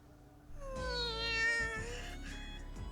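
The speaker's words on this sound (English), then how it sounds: "Dangled by the nape of her neck like a kitten, Machina lets out a feline cry" A feline, kitten-like cry voiced for a character in The Fruit of Grisaia visual novel, one drawn-out wavering wail rising and falling over about two seconds, loud and close over faint background music.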